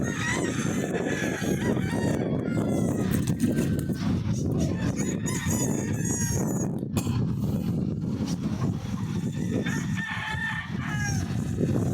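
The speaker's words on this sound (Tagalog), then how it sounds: "Ganda ng mga manok nila." Chickens and roosters on a gamefowl farm, with repeated crowing and scattered clucking from birds at several distances, a steady busy chorus of fowl throughout.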